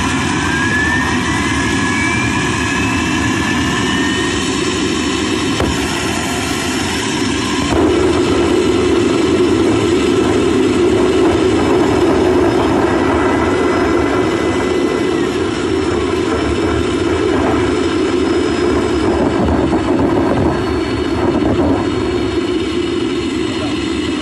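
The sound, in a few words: homemade afterburning turbojet engine running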